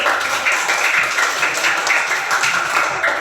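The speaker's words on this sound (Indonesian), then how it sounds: "Kasih tepuk tangannya dulu." Children in a classroom clap together, loud and close, with rhythmic bursts of hand claps in a fairly regular beat that continues throughout.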